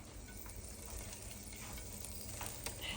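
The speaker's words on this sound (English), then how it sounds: "All right, sizzle, sizzle happening." Chicken breast sizzling in a frying pan, a steady crackling hiss with occasional stirring, close and fairly quiet with no talk.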